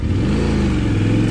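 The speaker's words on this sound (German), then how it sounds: "Die gräbt sich ganz schön ein hier, die Karre." Adventure enduro motorcycle engine revving hard as the heavy bike digs into stony off-road ground, a brief loud close-up rumble.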